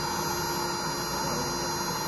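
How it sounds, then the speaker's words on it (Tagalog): Steady, even hum of a solar water pump at an open water source in Peñaranda, Nueva Ecija, a constant tonal drone with a hiss layer, unchanging throughout and heard alone. "Nahina lang po talaga ugong niyan eh."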